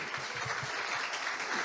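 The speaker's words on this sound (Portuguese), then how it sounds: "Quantos podem aplaudir o Senhor mais uma vez?" A church congregation claps together in praise, a short burst of dense, continuous applause filling the room.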